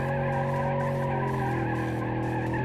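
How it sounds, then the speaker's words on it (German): A car towing a trailer drifts in the BeamNG.drive driving game, tires skidding in a loud, sustained squeal over steady engine drone, close and continuous throughout. "Schöner Drift mit dem Hänger."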